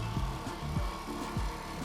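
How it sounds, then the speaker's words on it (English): Power sawing through a boat deck during a refit of a retired IOR sailboat, probably a jigsaw: steady close buzzing with repeated low swooping strokes that rise and fall roughly every half second. "With a little bit of grinding, which was more of a preparation for the future reintegration than a necessity, some drilling and jigsaw action"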